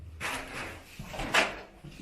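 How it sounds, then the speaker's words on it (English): A big old door shifts and scrapes inside an abandoned deep shelter, a few dull knocks and rubbing bursts heard close and fairly quiet with no talk. "Big old door."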